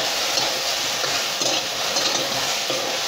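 Okra gets stirred and sautéed in a pan over low heat: a dense, continuous sizzle with rhythmic scraping stirs close by. No speech.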